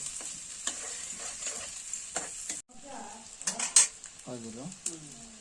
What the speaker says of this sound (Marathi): कसं पण सोनेरी कलर होईपर्यंत भाजायचं ना हो